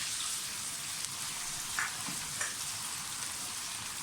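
Ginger-garlic paste frying with light golden-brown onions in a pan, a steady soft sizzle with a couple of faint stirring clinks, no talking.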